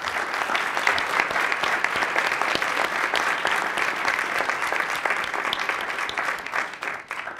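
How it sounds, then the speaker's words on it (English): An audience at a veterans' panel gives the panelists a steady, dense round of applause that holds for several seconds before thinning out near the end. "I'd like to give a little applause to the panelists."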